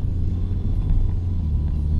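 A V12-engined car driving, a steady low engine rumble heard from inside the cabin, continuous and loud with no voices.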